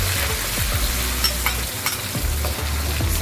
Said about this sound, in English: So now what I'm going to add to the oil is the paste, the blended paste.